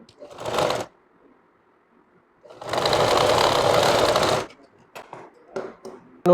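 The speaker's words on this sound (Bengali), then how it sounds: "আগে মুড়িটা একটা সেলাই দিয়ে নিতে হবে" A sewing machine stitches a pajama with thick elastic and snap buttons, running in two bursts: a short one, then a longer steady whir of about two seconds, with quiet handling noises between and after.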